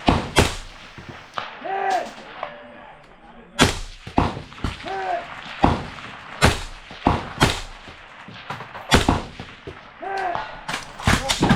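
Rifle shots at a tactical sniper competition, a series of loud sharp cracks at uneven intervals, each with a short trailing echo, mixed with occasional brief human vocal sounds between them.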